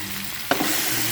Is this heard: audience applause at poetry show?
no